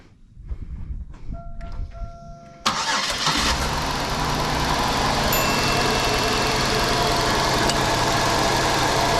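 A 2005 Buick Park Avenue with a random misfire cranks briefly and catches, then settles into a steady, loud running engine close by, with no talk over it.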